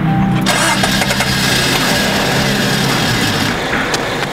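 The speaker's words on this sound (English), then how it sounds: "All right, we're gonna see if the car starts again." An old Geo car engine cranks and catches, then settles into a rough, loud idle heard up close.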